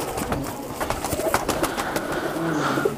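High flyer pigeons cooing close by in soft repeated low calls, with faint rustling and handling noise around them and no voices.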